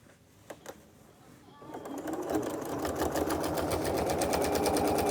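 Sewing machine quilting a memorial quilt, running steadily and close after a quiet start, with a continuous fast stitching whir that holds for several seconds.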